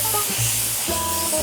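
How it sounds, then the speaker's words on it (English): A spray gun lays down the first coat of clear on a car in a paint booth, giving a steady close hiss of atomizing spray over a low, droning mechanical hum. "lay down the first coat of clear"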